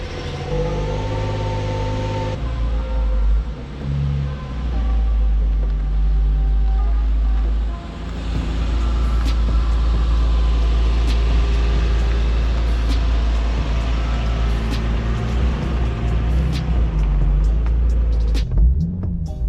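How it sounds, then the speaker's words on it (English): A Nissan Z car on a drive, with a loud steady engine drone and deep low rumble from inside the cabin, rising and easing with throttle and a shift around the middle. "that was like a one final drive with this car"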